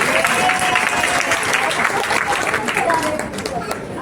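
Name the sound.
audience clapping at a religious katha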